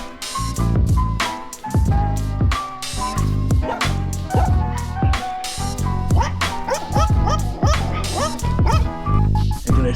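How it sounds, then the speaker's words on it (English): A dog barks aggressively on a hillside street in Puerto Vallarta, Mexico, letting out a rapid, loud, close run of repeated barks and yips that fills the whole stretch with barely a pause. "This is the second time that dog tries to attack me."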